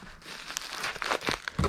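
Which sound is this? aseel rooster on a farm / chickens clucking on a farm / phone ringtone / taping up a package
taping up a package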